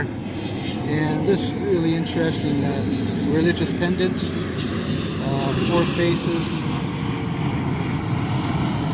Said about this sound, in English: Sorry about the plane noise, but that's where we are.